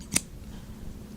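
Scissors make a single crisp, close snip through thick brushed fabric, heard alone against a quiet room.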